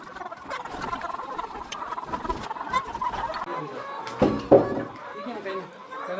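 Chickens eating black soldier fly larvae give soft, irregular clucks and pecking chatter close by, with a few sharper knocks and scuffs.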